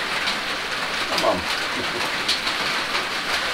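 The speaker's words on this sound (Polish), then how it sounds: "Pada deszczyk." Steady rain falling at a fishing spot in Harsány, Hungary, a constant close hiss of drops with a few louder taps, and a brief voice speaking over it.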